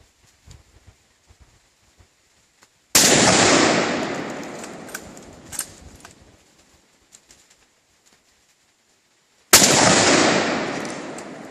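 Two loud, sharp rifle shots fired outdoors, each with a long rolling echo that fades over several seconds, separated by about six seconds of near quiet with faint birdsong.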